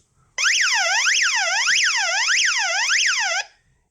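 An emergency hand-crank dynamo radio emits an electronic wailing siren alarm, sweeping up and down in steady repeated cycles for about three seconds, close and clear, before stopping sharply.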